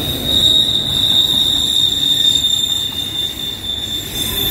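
A westbound CSX freight train with CNW and FEC autoracks rolls past, its wheels letting out a loud, sustained high squeal over a steady rumble, close by with no talk.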